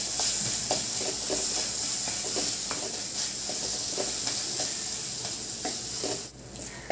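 Grated ginger, salt and spices sizzle and fry in a pan while a spoon stirs and scrapes steadily through them, with a continuous close hiss and soft clinks, no talking.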